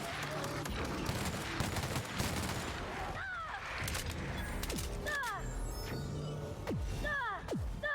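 Gunfire in the video game The Outer Worlds, a rapid run of sharp shots with mechanical clicks and whistling sweeps, fairly close and busy, with someone talking through parts of it.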